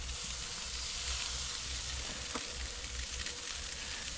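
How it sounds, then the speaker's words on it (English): Steady soft sizzling hiss of fish fillets frying on a hot gas grill, continuous and fairly quiet, with no voices. "Nice little sizzle going there already."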